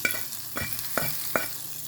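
Hot tempering is poured into gongura (sorrel) chutney, bringing a short, close sizzle broken by four evenly spaced scraping strokes.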